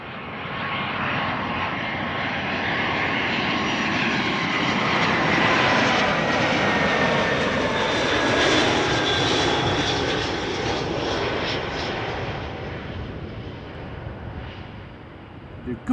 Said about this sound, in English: BA flight 434, an A319 arriving from London Heathrow.